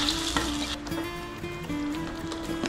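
A blended spice paste sizzles in hot oil in a wok and is stirred with a steady frying hiss. Light scraping and clinking of the utensil can be heard along with a constant tonal hum nearby.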